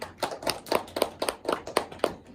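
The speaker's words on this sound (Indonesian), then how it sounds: "Ya, tepuk tangan untuk Mbak Hasna." A classroom of students claps in unison for a classmate, the claps landing in an even, brisk rhythm roughly four per second, close and clear with no talking.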